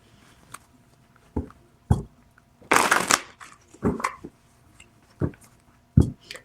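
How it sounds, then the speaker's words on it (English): Tarot reading cards being shuffled by hand, a series of sharp close riffles and slaps spaced irregularly with one longer burst in the middle, fairly loud and with no talking. "we're going to pull some cards and see exactly what's going on with Stefon Diggs"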